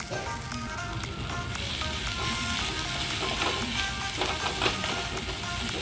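Sliced onion with turmeric, coriander and pepper powder sizzles loudly in a pan for beef pepper roast, a dense crackling fry with light stirring scrapes throughout, no talking.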